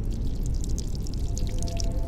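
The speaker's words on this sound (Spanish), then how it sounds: "Estoy oyendo un agua." Steady running water in the Shinkansen 0 train game, a continuous pouring, trickling wash that stays even and fairly close throughout, with no voices over it.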